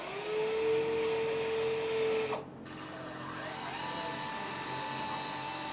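Electric whine from the big-arm hydraulic cylinders of a Double E EC160E or Kabolite K5901 RC excavator, a steady pitched motor tone that cuts off abruptly midway, then lower mechanical hum and rising whine continue, close and fairly loud.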